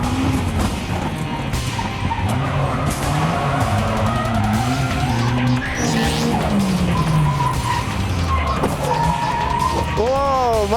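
Drift car at a 2010 D1 Grand Prix event in Nikko, Japan, overrunning a corner and losing speed, its engine wailing and tires squealing loudly and continuously under excited commentary.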